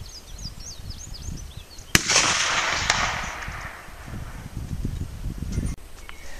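One sharp rifle shot fired at a target outdoors, a single loud crack followed by a brief rumbling echo, with birdsong faintly in the background before it.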